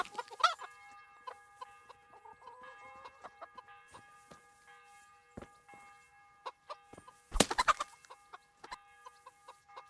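Chickens in the video game Kingdom Come Deliverance give scattered clucks and short calls over a sustained tonal hum, with a few sharp thuds or clatters breaking in.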